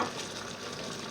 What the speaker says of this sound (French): on retourne notre viande plusieurs fois s'il faut, pour que le coco se mélange à la préparation